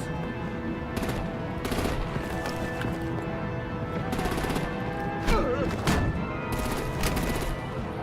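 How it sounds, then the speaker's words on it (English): Gunfire in the Batman: The Enemy Within video game, faint scattered bursts of shots and machine-gun fire sitting within a busy, layered game soundscape with voices and a tonal score. "Break out the artillery and disable their vehicles!"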